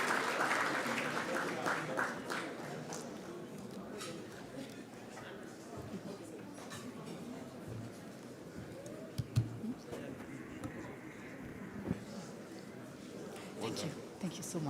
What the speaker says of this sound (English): A big round of applause once again for our panelists and fantastic